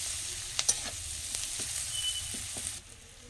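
Onions fry lightly in a pan with a steady, close sizzle. A few soft stirring scrapes and taps sound over the hiss before it cuts off near the end.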